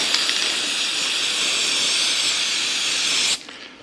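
A steady, loud aerosol spray of lithium grease on a 1999 Harley-Davidson Road King hisses continuously for about three seconds, then stops abruptly.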